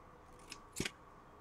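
Scissors snip through tulle for a shaker card, giving a faint brief snip followed by a louder double cut close by, alone in a quiet room.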